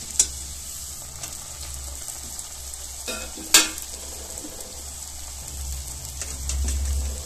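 Achu murukku rose cookies made from ration rice batter frying in hot oil, a steady soft sizzle and bubbling with a couple of brief sharp clinks.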